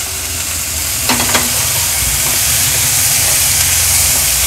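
Chopped tomatoes sauté in a pan over high flame, giving a loud, dense, continuous sizzle with a couple of brief stirring clinks early on.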